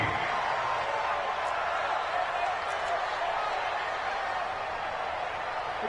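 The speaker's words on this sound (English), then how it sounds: "the crowd getting into it as we come up on a big third down" Stadium crowd roars steadily in a video game football broadcast as a big third down approaches, a dense, constant wash of cheering that holds loud and even throughout.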